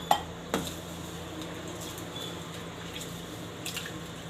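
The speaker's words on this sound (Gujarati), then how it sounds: "તો બેયને એકદમ સરસથી આપણે ધોઈ લેવાની છે." Moong and toor dal lentils being rinsed in water in a home kitchen, with a couple of sharp clinks of a steel pot or utensil at the start, then soft sloshing and dripping and a few light clatters near the end, close and fairly quiet.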